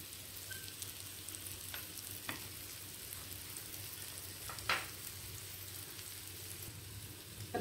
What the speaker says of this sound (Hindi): इसे हल्की गैस पर थोड़ा सिकने देंगे।